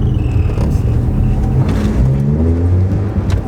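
A car accelerating, a loud close engine rumble rising steadily in pitch as it gains speed, heard on its own for a few seconds.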